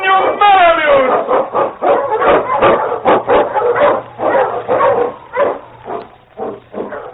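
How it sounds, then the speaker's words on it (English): An Eskimo lead sled dog in an old radio drama barks and yips repeatedly in quick, loud bursts, close and dominant over a narrow, dated broadcast sound. "The Wonder Dog King, swiftest and strongest of Eskimo lead dogs, blazes the trail through storm and snow for Sergeant Preston"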